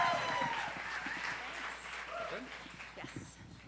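Steady applause and cheering from a storytelling-night audience welcoming the last storyteller of the first half, a dense, sustained clapping wash that thins slightly toward the end, with a whoop or two.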